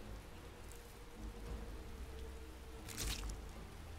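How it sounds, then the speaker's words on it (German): Steady rain patters softly in Skyrim, the video game, a continuous faint hiss of drops with a brief brighter splash near the end and no talk. "Hier, es regnet."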